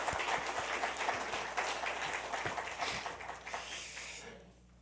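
Church congregation giving applause to its worship ministers and choir during a Sunday service, a moderate wash of clapping that gradually fades out at the end, fairly soft and somewhat distant.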